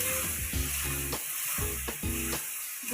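Fish curry with ginger paste and water being sautéed in a pan, a strong steady sizzle with repeated scraping stir strokes in a rough rhythm, close and loud with no talking.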